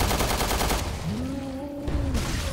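Gunfire from the Resident Evil: Revelations video game opens with a quick rattling burst of shots, then drops to a whooshing tone with rising game effects before another loud burst. No one speaks.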